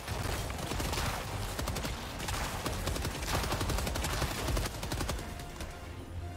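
A gun firing in Helldivers 2, rapid sustained automatic shots rattling on for several seconds at a moderate level, dense and continuous with slight swells, no voices heard.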